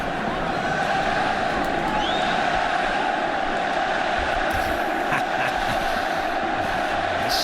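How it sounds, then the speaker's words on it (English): Barcelona fans cheering in a stadium during a Supercopa final El Clasico against Real Madrid, a steady distant crowd roar that holds level throughout without distinct peaks. "to the cheers of the Barcelona fans in the stadium"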